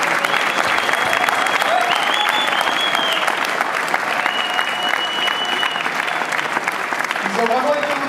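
A crowd at a race podium ceremony applauds loudly and continuously, a thick wash of clapping with a few faint whistles, heard throughout with no clear talk.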